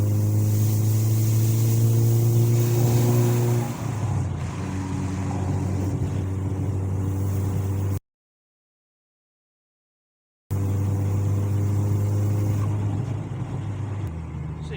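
A car with a 1.8T engine and K04-064 turbo pulls under throttle, giving a loud, steady engine drone heard from inside, with pitch shifting midway. A brief dropout of silence breaks the sound before it resumes.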